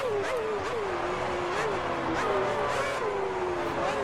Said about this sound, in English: Shifted up a gear.